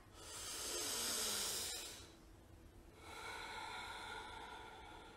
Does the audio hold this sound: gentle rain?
no